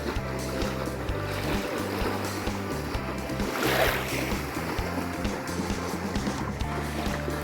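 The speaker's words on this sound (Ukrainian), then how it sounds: "Море спокійне." Gentle Black Sea water lapping and washing steadily under a low rumble at a beach in Odesa, with a soft swell rising midway, no voices.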